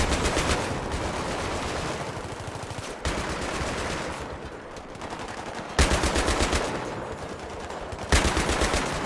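A mounted machine gun fires in the Battlefield 3 campaign: loud, close, rapid automatic bursts in several long strings, separated by short pauses.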